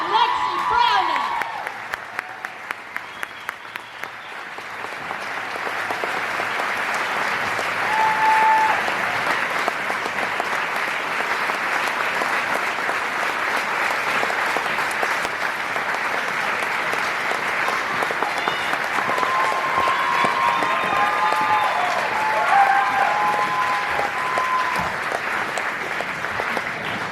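An audience delivers long, steady applause welcoming a speaker onstage at a cancer fundraising event, a continuous roar of many hands that stays strong throughout with faint scattered voices and cheers.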